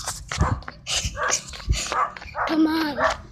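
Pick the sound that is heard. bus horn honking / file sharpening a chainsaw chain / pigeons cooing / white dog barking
white dog barking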